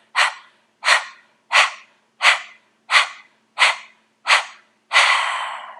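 Rapid panting breaths in a yoga breathing exercise: seven short, sharp, evenly spaced exhales close to the microphone, then one longer, drawn-out breath.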